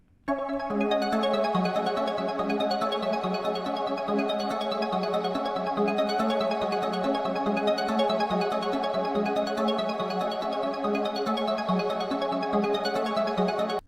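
A dark, looping ambient trap synth melody made in FL Studio 21 plays continuously over a steady beat, moderately quiet and even throughout, with no voices.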